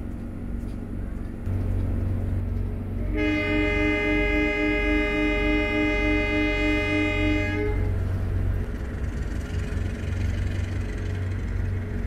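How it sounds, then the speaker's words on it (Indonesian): A train horn sounds a long, steady blast over the low rumble of the Kahuripan passenger train rolling into a station, loud and close, before the horn stops and the rumble continues. "dari arah barat masuklah kereta api Kahuripan dari Kiara Condong tujuan akhir Blitar"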